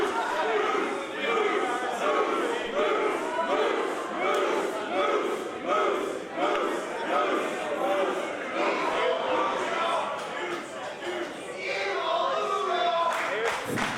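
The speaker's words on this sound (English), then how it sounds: "a moose chant from the crowd" Wrestling crowd at an indie show chants "moose" in a loud, rhythmic, repeating pattern that lasts the whole stretch, with a commentator talking over it.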